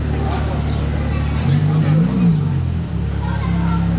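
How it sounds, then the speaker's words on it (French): A Ferrari passes at a rare-car parade in Monaco, its engine swelling in a brief rev over the constant crowd chatter and traffic noise. "on enchaîne avec une autre belle Ferrari"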